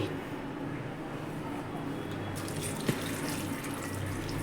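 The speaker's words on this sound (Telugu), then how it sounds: "ఇలా విడివిడిగా తీసుకున్న తర్వాత వాటర్ పోసుకొని" Water pours steadily over separated ginger and garlic pieces to soak them, a continuous splashing rush like a running tap, with a brief clink near the end.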